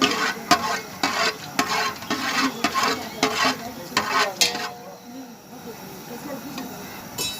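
Cloves, cinnamon and cardamom are stirred in hot oil for mutton dum biriyani, with a spoon scraping and clinking rhythmically against the pot over a steady sizzle before the stirring eases off.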